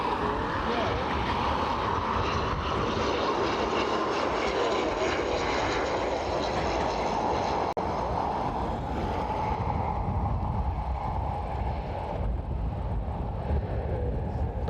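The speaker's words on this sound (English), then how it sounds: "Aer Lingus Regional arriving all the way from Edinburgh." An Aer Lingus Regional propeller airliner arriving at Dublin Airport from Edinburgh, a loud continuous engine roar and whine that holds steady and then eases slightly as it passes close by.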